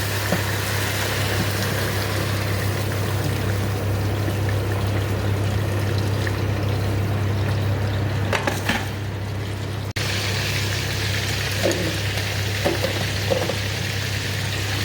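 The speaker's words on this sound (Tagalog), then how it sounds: "lagyan natin ng tubig" Water is poured steadily into a pot of squash, eggplant, okra and tomato, a continuous close splashing trickle that runs nearly fifteen seconds with a few brief clinks near the end.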